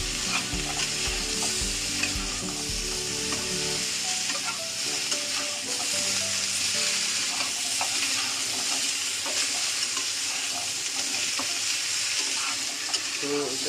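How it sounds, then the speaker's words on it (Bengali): Chicken fries in a little oil with a steady close sizzle and frequent stirring scrapes early on, the hiss continuing evenly throughout. "একদম এটা অল্প সামান্য চিকেন তেলে রান্না হচ্ছে।"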